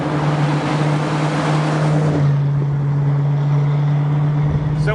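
A Ford Shelby Mustang GT350 Hertz car drives along with a loud, close, steady engine hum and heavy rushing road and wind noise, which thins out partway through while the low drone carries on.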